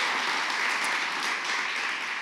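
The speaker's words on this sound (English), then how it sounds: "So these should also get an applause" Dense, continuous applause from a large audience honoring the nominators and supporters of a landscape architecture prize, an even wash of clapping with no breaks, fairly loud.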